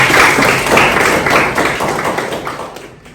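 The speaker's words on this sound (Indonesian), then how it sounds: "beri tepuk tangan untuk teman kalian" High school classroom applause for a student, a dense burst of clapping from many hands close by that starts loud and slowly thins out over about three seconds.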